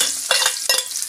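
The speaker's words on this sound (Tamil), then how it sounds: "வெங்காயம் ஒன்று சேர்த்துக்கலாங்க." Chopped onion hits hot oil with mustard seeds in a pan and is stirred, giving two quick scraping stirs over a close, steady sizzle.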